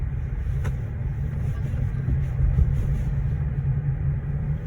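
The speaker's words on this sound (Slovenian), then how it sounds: "Neki drgne avto, ne vem kaj je." A car rolling slowly through a hotel car park near a casino in Kranjska Gora, with a steady low rumble and a faint rubbing scrape underneath, continuous and close throughout.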